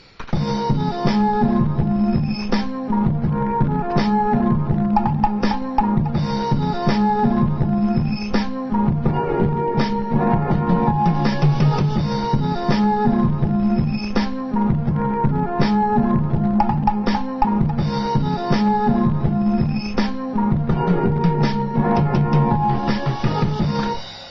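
A mellow hip hop beat loops steadily with punchy drums and a warm, bass-heavy instrumental bed. It plays loud and continuous for the whole stretch.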